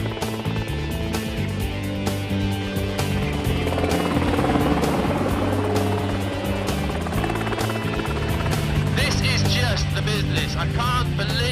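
A homebuilt helicopter flying close by, its rotor thudding in a steady rapid chop over a loud engine whine that stays constant throughout, with no talk.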